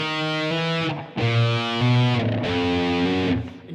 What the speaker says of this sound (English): And you can hear I've got some distortion on here.